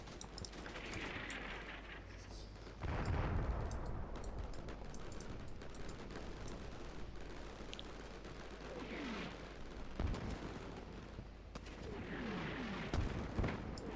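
Distant 81mm mortar fire and other artillery in the Combat Mission Shock Force 2 wargame, several muffled booms with rumbling decay over a low background rumble, with a louder blast partway through.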